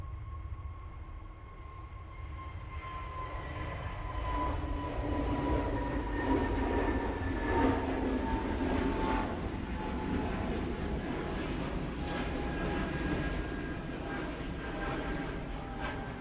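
SAS Airbus A320neo jet departing Manchester Airport on a flight to Copenhagen, a distant steady engine roar with a faint whine that swells slightly toward the middle and eases off, no voices.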